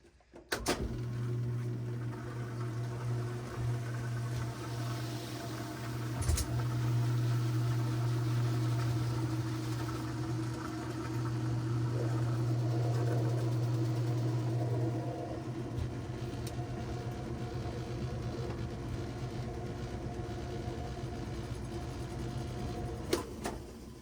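A Whirlpool washing machine running a drain and spin cycle, with a steady low hum and motor drone over mechanical rumble, with a brief knock near the start and another near the end, moderately loud with no talking.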